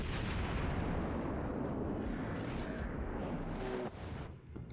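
A naval gun salvo from the heavy cruiser Aoba in World of Warships booms out as a deep, rumbling blast that fills the mix and slowly rolls away.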